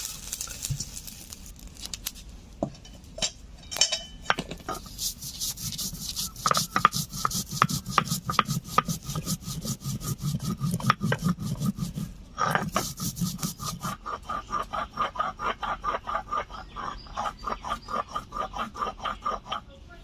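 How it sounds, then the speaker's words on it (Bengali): Repeated scraping and grinding strokes of stone on stone as dry-roasted spices and cumin are ground on a grinding stone, a steady rhythmic rubbing that continues throughout, close and fairly loud. "নামিয়ে বেটে নিচ্ছি।"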